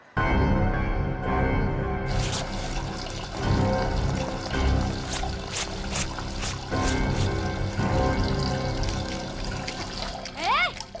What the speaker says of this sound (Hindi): दिख नहीं रहा है पानी वेस्ट हो रहा है।